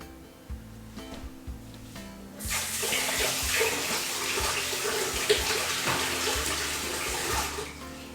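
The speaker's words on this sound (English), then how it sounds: "you just want to give this a quick rinse" A container being rinsed under a running tap, with a few soft knocks and clatters followed by a strong, steady rush of water that continues to the end.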